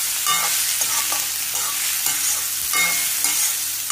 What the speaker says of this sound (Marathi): बारीक गॅस करून चांगलं भाजून घ्यायचं.